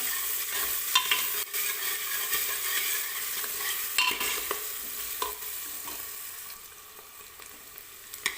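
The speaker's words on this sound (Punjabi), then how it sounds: "ਆਪਾਂ ਜੀਰਾ ਥੋੜਾ ਜਿਹਾ ਭੁੰਨਣ ਤੇ ਪਿਆਜ਼ ਤੇ ਅਦਰਕ ਪਾਤਾ" Cumin, onion and ginger fry in a pan for a turnip, potato and fenugreek sabzi, giving a constant close sizzle broken by repeated spoon scrapes and clinks as the mixture is stirred.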